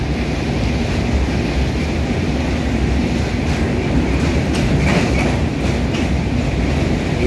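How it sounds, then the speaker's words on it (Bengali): A train crosses a railway bridge over the Godavari River on the South Central Railway, giving a steady, loud, continuous rumble with rhythmic clickety-clack of wheels and no voices. "এদিকে রেল ব্রিজ দিকে ট্রেন যাচ্ছে"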